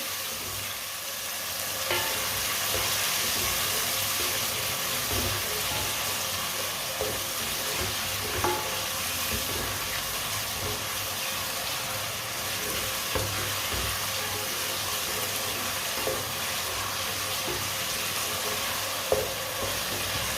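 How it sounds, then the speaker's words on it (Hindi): Steady, close sizzling of vegetables with tomatoes and crushed ginger frying in a pan for pea pulao, a constant crackle with small pops throughout, no talking. "सब चीजों को 2 मिनट के लिए पका लेंगे।"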